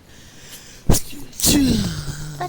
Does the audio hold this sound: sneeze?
yes